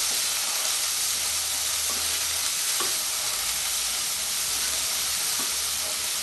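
Sweet corn and red bell pepper stirred in butter in a pan, giving a dense, steady hiss of sizzling close up, with a few soft stirring knocks and no talking.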